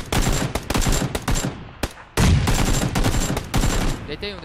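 Rapid bursts of automatic gunfire from the PUBG Battlegrounds video game, loud and dense, with repeated volleys separated by short gaps and faint voices underneath.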